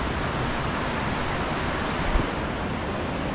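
A river flowing near the Kirateshwar Shiva Dham temple at Legship in west Sikkim makes a loud, continuous rushing roar that stays steady and fills the whole stretch.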